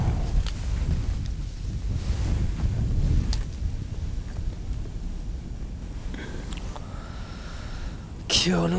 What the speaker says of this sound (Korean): 바람이 세지는데